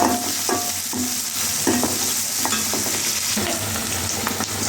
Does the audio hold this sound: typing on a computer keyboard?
no